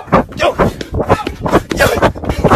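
A French Bulldog whimpers and yips in short, excited bursts close by, mixed with loud voices and commotion.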